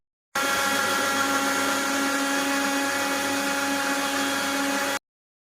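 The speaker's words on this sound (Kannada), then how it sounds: "ಬಾದಾಮ್ ಗುಂದನ್ನ ಇದಕ್ಕೆ ಸ್ವಲ್ಪ ಹಾಕಿ ಗ್ರೈಂಡ್ ಮಾಡ್ತಾಯಿದ್ದೀನಿ" A kitchen mixer grinder runs on almond gum in one continuous, high-pitched whirring burst of about four and a half seconds that starts and stops abruptly, loud and close, with no talking.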